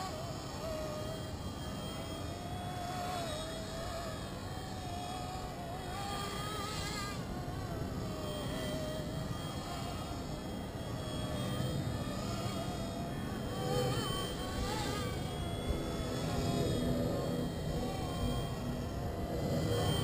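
Micro mSR X RC helicopter flying outdoors in wind, a continuous high, buzzing whine that stays steady for about twenty seconds with slight rises and falls.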